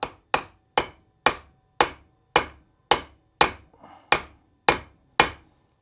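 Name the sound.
ball-peen hammer striking metal on a vise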